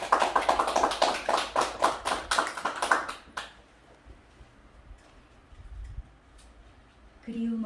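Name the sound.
audience applause welcoming a poetry reader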